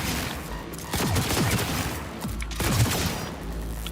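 Gunfire from a weapon being tried out in the video game Cyberpunk 2077, with two loud clusters of rapid shots separated by a brief pause, close and dominant.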